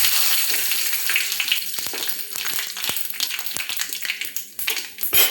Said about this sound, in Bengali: এবার আমি একটু দেব জিরে ফোড়ন, আর দেখব দুটো তিনটে তেজপাতা।